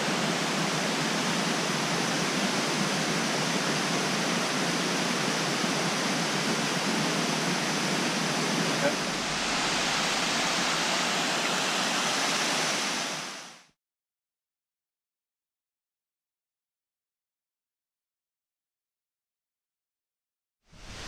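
An overflowing river pours down over rocks at a waterfall in Vietnam, a dense, loud, steady roar of rushing water that cuts off abruptly partway through.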